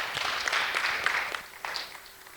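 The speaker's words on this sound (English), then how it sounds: "I think we should give a better clap than that." A workshop audience gives a brief round of applause, faint scattered clapping that tapers off quickly.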